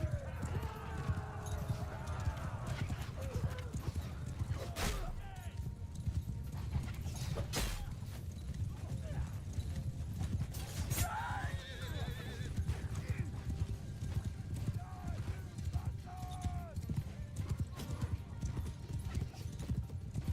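Horses gallop in the medieval battle game Bannerlord, a busy clatter of hooves with occasional whinnies and distant combat noise, with someone talking over it.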